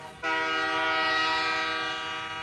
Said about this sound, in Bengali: পেছনে হঠাৎ একটা ট্রেনের শব্দে যেন আমার চৈতন্য হলো।